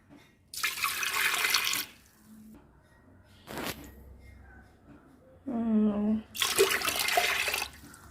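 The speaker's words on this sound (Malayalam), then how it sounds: "2 കപ്പ് വെള്ളം ഒഴിച്ച്" Bursts of water pouring and splashing as two cups of water go into lentils for Kerala-style curry, each lasting about a second, with a brief clatter and a short voice between them.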